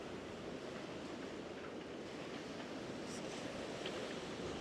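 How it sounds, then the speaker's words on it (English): Storm surge waves crash and splash along a coast during Storm Darragh, a steady, loud roar of surf and spray mixed with gusting wind noise on the microphone, continuous throughout. "Water splashing over here a bit."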